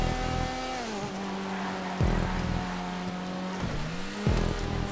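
Engines rev and race in Grand Theft Auto V during a Cunning Stunts race, loud pitched engine tones rising and falling with repeated gear shifts, close and continuous with no talk.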